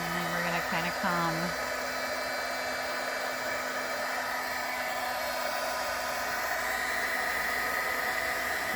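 A heat gun blows hot air over a faux tintype vintage photo craft, a steady loud broadband whoosh running the whole time after a brief tonal whine at the start.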